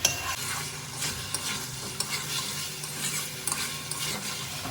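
Pointed gourd is stirred and sautéed with spices in a pan, a loud continuous sizzle layered with frequent scraping strokes of a spatula and small metallic knocks.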